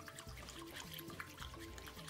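Soap and water being mixed for bubble painting with acrylic paint, a faint, continuous liquid swishing and trickling with soft bubbly sloshes.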